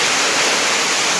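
Steady rain falls right after branches were cut near a house's main power line, a dense, even hiss running unbroken throughout with no voices.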